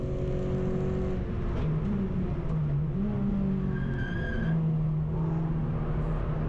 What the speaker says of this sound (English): Guessing that squeals from the rears locking up as there's no weight over them into that hairpin.